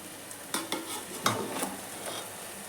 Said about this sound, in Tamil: லைட்டாக அப்படி கிண்டி விடணும், சாதம் உடஞ்சிடக்கூடாது.